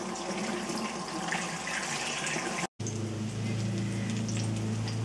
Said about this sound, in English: Let me wash my hands while we wait for that fire.